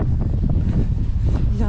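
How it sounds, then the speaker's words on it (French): Strong wind buffeting the microphone outdoors during a 92 km relay running race. Loud, rumbling gusts pulse continuously and unevenly, dominating the sound. "Il y a un vent de bâtard."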